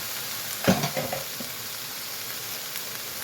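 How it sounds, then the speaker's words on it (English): Fire roasted tomatoes tipped into a hot pot of chili con carne, a brief wet splash and sizzle up close, then a faint steady simmering hiss. "now I'm going to add my fire roasted tomatoes"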